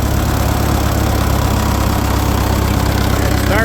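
An old Ford 8N tractor engine runs steadily on a cool December day, a continuous low chugging idle that fills the whole stretch without a break.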